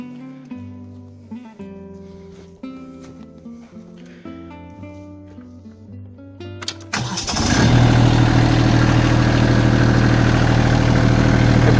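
A tractor engine cranks over and catches, then settles into a loud, steady run to drive a PTO-powered hydraulic log splitter. Quiet music plays before it starts.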